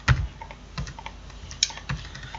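Computer keyboard keys are pressed in a quick irregular run of close clicks, used as an Alt C shortcut, with no one talking.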